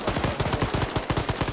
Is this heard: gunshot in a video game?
yes